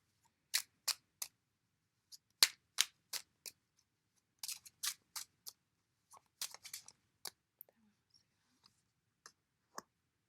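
Playing cards are shuffled and handled during a tarot reading, giving sharp, quiet flicks and snaps in uneven bursts and single clicks, close and alone.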